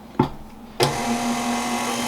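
Electric mixer beating powdered sugar and milk into icing, switching on with a sharp start and then running as a steady, fairly loud whir with a constant motor hum, no voices.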